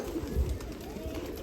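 Pigeons from a 40-year-old loft on Subhash Road, Nashik Road, coo low and soft in a steady murmur, with a faint bit of voice in the background.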